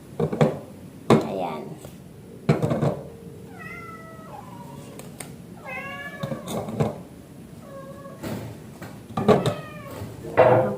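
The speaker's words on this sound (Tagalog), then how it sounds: "nagsaway tayo sa ating mga pusa kasi ang gugulo ng mga pusa natin" Several cats meow repeatedly in a home kitchen, the drawn-out cries coming in clusters among sharp clatters and knocks, with a person talking at times.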